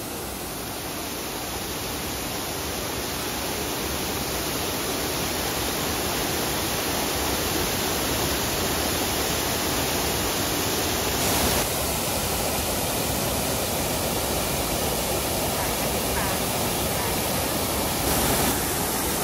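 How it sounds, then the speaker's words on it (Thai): A garden waterfall six meters high at a hotel pours steadily onto many rocks, making a dense, constant broadband roar that stays loud and even throughout with no talking. "น้ำตกเนี้ยสูง6เมตรนะครับแล้วมันก็จะตกลงมาเนี่ยกระทบกับหินหลายๆก้อนเลย"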